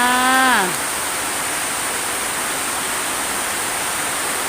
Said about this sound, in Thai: ฝนตกแล้วค่ะพี่น้องเด้อบ่ใครได้ยินปานไหนค่ะ